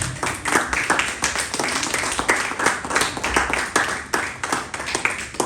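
Church congregation clapping in praise to the Lord during a Spanish-language sermon, a loud, rhythmic run of sharp claps with strong regular beats repeating throughout.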